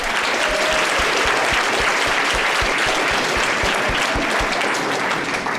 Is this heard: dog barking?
no